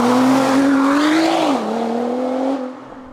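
A Nissan R35 GTR sports car engine drones loudly and close, its pitch climbing slightly and then dipping before the sound tapers off at the end.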